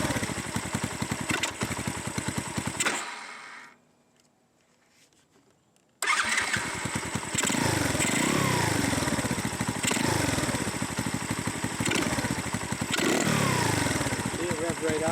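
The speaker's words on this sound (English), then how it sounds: "See it rev right out right there." A 2024 X-Pro Storm 150 DLX motorcycle engine runs roughly, cuts out to near silence for a couple of seconds, then starts again and revs up and down loudly up close, with someone talking over it.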